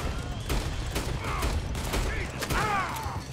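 Dense, continuous gunfire in the open-world western video game Red Dead Redemption 2, with rapid overlapping shots from a fusillade, game sound effects and faint voices mixed in, holding at a steady loud level throughout.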